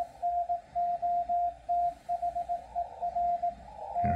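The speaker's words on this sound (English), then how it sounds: "digital noise reduction is pushed to a high level. Pretty much hear only Morse." Morse code CW tone from a Yaesu FTdx10 radio with digital noise reduction set high, a clean steady pitch keyed in short and long bursts over a quiet, hushed background.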